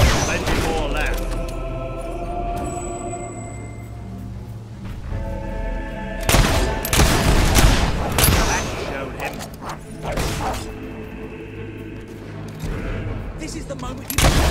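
Video game gunfire pops in ragged bursts and volleys alongside mechanical clanks and booms, loud and near, with voices shouting between the shots.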